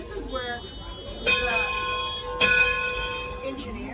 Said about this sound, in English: And he's pulling the bell.